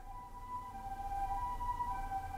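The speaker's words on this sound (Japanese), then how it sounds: "今ちょっと救急車通ってる。" A faint, distant ambulance siren wails steadily over low background rumble, no voices heard.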